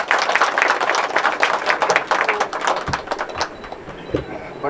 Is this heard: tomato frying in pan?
no